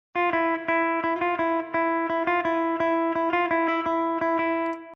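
A clean, dry electric guitar with no amp or effects repeats a steady picked riff on a single droning note, close and even.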